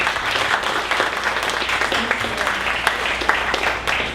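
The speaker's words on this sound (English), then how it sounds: "one more round of applause for meetHere" Audience applause at a 1 Million Cups Dallas entrepreneur pitch event, a steady round of clapping from a crowd lasting several seconds with no voices over it.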